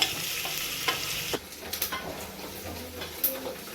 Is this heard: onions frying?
yes